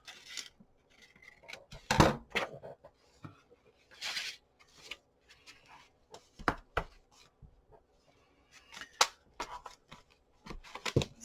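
Scissors trim a paper page of a handmade junk journal, giving scattered, crisp snips and rustles with quiet gaps between them, close and fairly soft.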